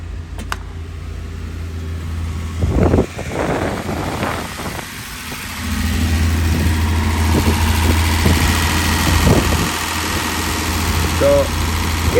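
A car engine with an R12 refrigerant AC system idles steadily at close range during a recharge, a low constant rumble that rises in level partway through, with brief knocks and handling noises over it.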